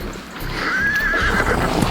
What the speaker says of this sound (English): that's a sweet horse